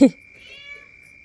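A cat gives one short, sharp meow right at the start, followed by a faint steady high whine.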